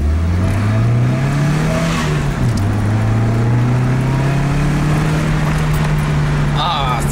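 A repaired Dodge Caravan minivan drives with a loud, steady engine and exhaust drone whose pitch climbs and then settles as it cruises, with people talking over it.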